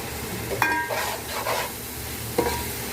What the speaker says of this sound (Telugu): బాగా వేపుకోవాలి దీన్ని కూడా